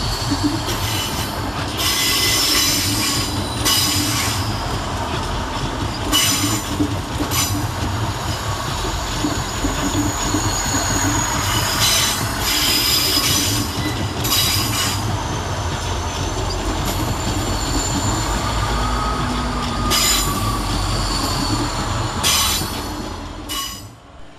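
South Western Railway Class 158 and 159 diesel multiple units depart Clapham Junction on a delayed Exeter and Bristol to London Waterloo service, with loud steady rumble, repeated wheel clatter over joints and squealing, close by throughout.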